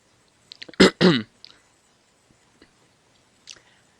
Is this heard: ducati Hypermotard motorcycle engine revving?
no